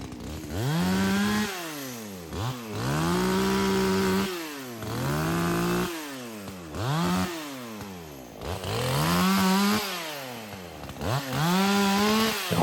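A chainsaw fitted with a new bar and chain limbs and bucks a storm-felled dry spruce. The engine revs up again and again in repeated loud cutting bursts, close by, with no talk.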